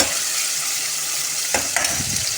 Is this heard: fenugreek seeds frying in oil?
yes